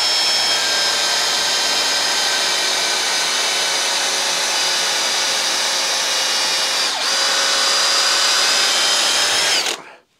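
Parkside Performance PPBSA 20-Li A1 cordless drill in second gear boring with a 6x300 mm auger bit, a loud steady whine running continuously for about ten seconds, with one brief dip partway through, then cutting off abruptly at the end.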